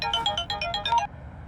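Electronic phone ringtone for an incoming late-night call, a bright repeating melodic pattern of short tones for about a second, then stopping into quiet room tone.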